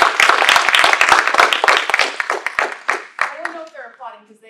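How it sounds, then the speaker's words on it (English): Students applaud at an academic classics and archaeology symposium, a burst of dense, close clapping that thins out into scattered claps before a voice begins speaking as it fades. "I'm sure her students are applauding already."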